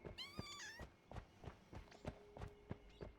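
A cat's meow sound effect in the game Noita, with a wavering, siren-like rise, followed by a run of soft, evenly spaced footsteps or taps.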